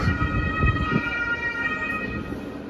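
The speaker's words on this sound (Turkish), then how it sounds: "Bu siren seslerini zaten sürekli duyuyorsunuz." An emergency vehicle siren sounds continuously at moderate distance in Rome, Italy, a steady wailing tone over low traffic rumble.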